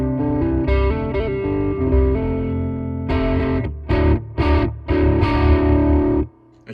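Electric guitar through a Kokko distortion pedal plays heavily distorted sustained chords, then a series of choppy, stabbing strums, ending with a sudden cutoff; loud and close with no voices, slight amp reverb.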